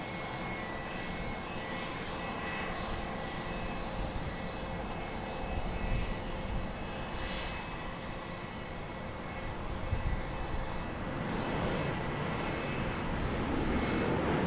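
An airliner takes off at Dallas Love Field, its engines giving a sustained, broad roar that holds steady and swells slightly at a distance, with no talk.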